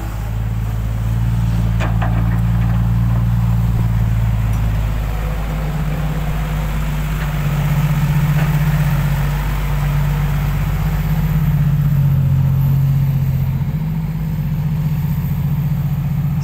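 A race car engine idles through its exhaust, loud and steady with a deep rumbling tone and slight rises and dips in level across the whole stretch, with no voices.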